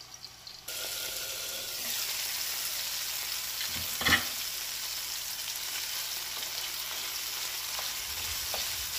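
Tomatoes fry with mustard seeds and cumin in a pan, giving a steady dense sizzle that runs almost without a break, marked by a brief louder clatter of stirring near the middle.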